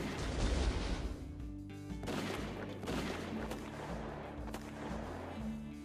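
Gunshots from Red Dead Redemption crack out in several spaced bursts amid game music and ambient noise, fairly faint overall, with a few sharp reports standing out.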